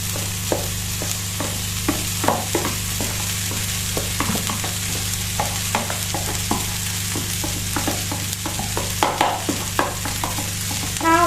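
Rice stir-fried in a hot pan sizzles continuously while a spatula scrapes and tosses it in a steady, rhythmic series of close clacks, with a low electrical hum underneath and no talking.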